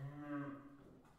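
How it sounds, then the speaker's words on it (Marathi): A bull lets out one low, drawn-out moo with rich steady harmonics that fades away after about a second, faint and alone with no talk. "बैल."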